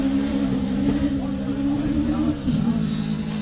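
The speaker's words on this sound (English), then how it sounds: "it sounds different to see a little Corolla like that with such a different sounding exhaust note" Toyota Corolla rally car with a Hayabusa motorcycle engine at a forest rally sprint, giving a loud steady buzzing exhaust note that holds level throughout, with a brief dip near the end.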